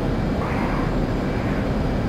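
Twin jet engines of an F-18 Hornet in the DCS flight simulator at supersonic speed, around Mach 1.2, give a steady, loud broadband roar with a deep rumble that holds unbroken throughout, with no voices.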